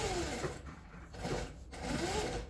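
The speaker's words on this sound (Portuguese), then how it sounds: "vou passar uma costura em volta dele todo, para prender todos os tecidos" A sewing machine runs a seam around fabric scraps for a small patchwork coin purse, its steady mechanical whir rising and falling in three close, even bursts with no voices.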